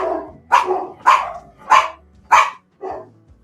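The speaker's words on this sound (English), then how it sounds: "She'll just bark from her lap of luxury there." A small pet dog barks from its owner's lap indoors, five sharp, evenly spaced barks close by and loud, the last one softer, with no talking.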